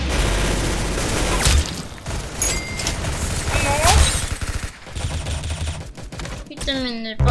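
Rapid gunfire from the Roblox shooter Arsenal fills the scene, loud, close bursts of shots stacking over game effects and music, with a short rising electronic tone near the end.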